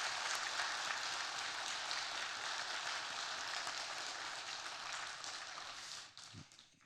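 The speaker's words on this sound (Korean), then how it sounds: "큰 박수를 한번 격려해 주시기 바랍니다" A church congregation applauds the choir during a worship service, producing dense, sustained clapping that fills the room and then tapers off near the end.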